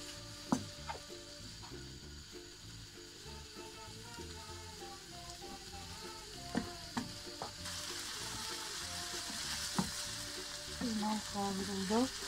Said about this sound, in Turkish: Şimdi bunu kavurmaya başlayalım.